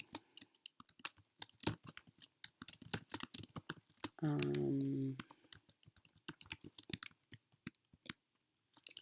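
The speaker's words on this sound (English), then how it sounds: "You just type it in and hit return" Quiet, irregular clicking of fingers typing on a computer keyboard, close and dry with uneven bursts of keystrokes, broken once by a short tonal electronic sound, with no talking.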